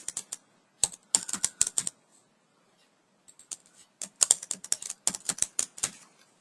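Someone types on a computer keyboard in quick bursts of sharp, close clicks, with a few seconds of near silence between the two main flurries.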